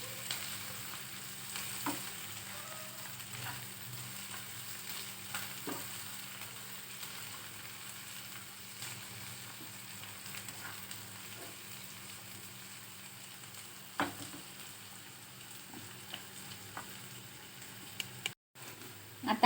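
Green chillies fry in a pan for anda bhurji, giving a steady, quiet low sizzle with small scattered pops and occasional stirring scrapes, no talking throughout.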